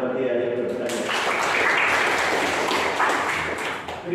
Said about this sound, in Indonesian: kasih tepuk tangan bagi yang bertanya.